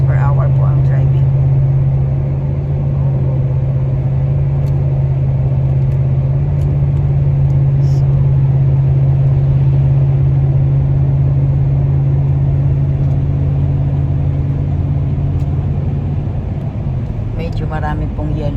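A car cruises at about 100 km/h on a snowy highway near Williams Lake, giving a steady, low interior engine and road drone that holds evenly the whole time, with faint rattles over it.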